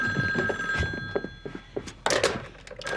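A telephone bell rings in an indoor domestic scene, bright rings repeating over short thuds and movement, fairly close and loud.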